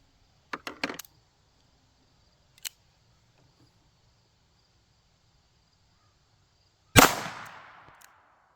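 A .22 WMR handgun with a short barrel fired outdoors during a velocity test: one sharp, loud gunshot with a short ringing tail, preceded by a few small clicks and clatters.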